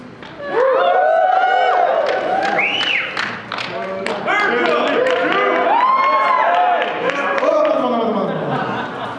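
An audience at a sumo event at an anime convention cheers and claps loudly and continuously, with shouts and whoops rising and falling over several seconds.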